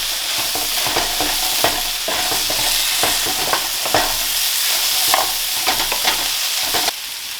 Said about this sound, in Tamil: அதுக்கு பிறகு இந்த வெஜிடபிள் அதை இதுக்குள்ளே ஆட் பண்ணுங்க. நல்லா மிக்ஸ் பண்ணுங்க.